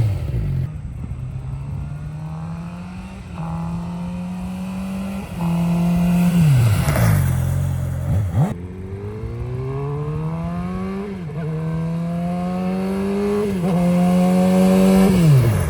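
A 2019 Suzuki GSX-R600 sport bike fitted with an M4 slip-on exhaust, recorded close and loud, revving repeatedly through rising and falling engine pitch, with a rough idle between the sharp climbs.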